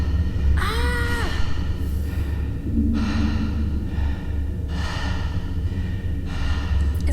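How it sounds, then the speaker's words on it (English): Breathing in the game Elegy for a Dead World: slow, airy inhales and exhales repeating every couple of seconds over a low ambient drone, with a brief higher wavering cry near the start. "It does breathe. You can hear it."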